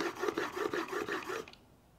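Rhythmic honing strokes of a Lie-Nielsen low-angle jack plane iron rubbed across a sharpening stone, about seven quick rasping passes close up, then stopping into quiet.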